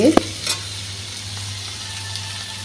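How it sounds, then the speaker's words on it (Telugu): Food frying in a pan and being stirred, a steady low sizzle with a couple of sharp scrapes and clinks near the start, then a continuous hiss, close and fairly loud, with no talk. "మాడకుండా చూసుకోవాలి, ఫ్రై చేసుకోవాలి. ఆల్మోస్ట్ ఇది అయిపోతుంది ఫ్రై."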